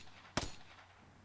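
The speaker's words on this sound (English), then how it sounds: "And then more gunshots." A single sharp gunshot burst from the Steins;Gate 0 video game, loud and sudden with a short ringing tail, standing alone over a quiet background.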